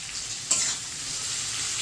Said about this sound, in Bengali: পটলেরই তেলে পেঁয়াজগুলো ভেজে নিচ্ছি